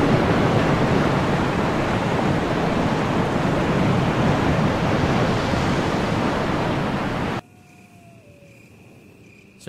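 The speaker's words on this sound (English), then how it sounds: "So you can hear the sound of a waterfall in the distance." A distant waterfall in Resident Evil Remastered gives a steady, loud broadband roar of rushing water that holds evenly for about seven seconds before dropping out sharply, leaving quiet ambience with faint tones.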